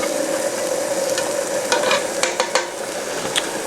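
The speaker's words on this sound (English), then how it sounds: "once the chops are cooking, once you hear that sizzle" Cajun pork chops sizzle and fry in a pan with a steady crackling hiss, broken by a few sharp stirring clatters and scrapes near the end, with no talking.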